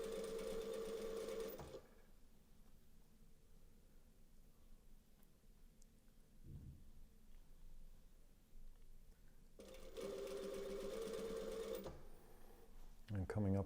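A sewing machine stitching binding on a garment runs in two loud whirring bursts at the start and near the end, with quieter handling in between and a voice talking.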